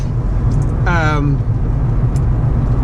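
A 2020 Acura ILX 2.4L sedan on the move gives a steady, loud hum of engine and road noise, with someone speaking briefly over it.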